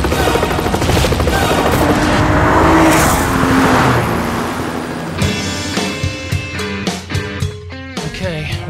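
A Lexus GS F Sport race car engine roars and revs continuously, with rapid sharp bursts and pops toward the end as the throttle changes, close and dominant.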